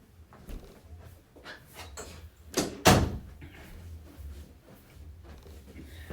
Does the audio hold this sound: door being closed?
yes